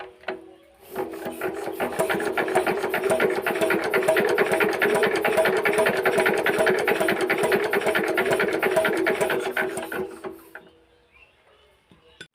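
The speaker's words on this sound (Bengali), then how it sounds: "আমরা এটা নজেলের সাউন্ড এবং স্প্রে সঠিক করে নিলাম" An injector nozzle from a 4 hp Chinese diesel engine is adjusted and test-sprayed, giving a loud, steady, harsh buzzing chatter that runs for about nine seconds before cutting off, with no talking.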